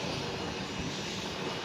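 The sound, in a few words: Embraer 145 jet airplane taxiing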